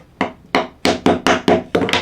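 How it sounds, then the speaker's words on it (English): Nails are driven into scrap wood with a small hammer while building a key rack, about eight sharp, close blows in an uneven rhythm that quickens toward the end. "Just make sure you got a nice little hammer."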